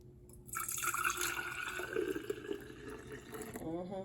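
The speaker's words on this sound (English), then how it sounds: "So I'll go ahead and pour that in the jar." Fresh cucumber juice pours into a jar with close, trickling, dripping liquid sounds over several seconds; a voice talks faintly at points.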